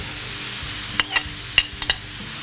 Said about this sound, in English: So I'm gonna add our shrimp.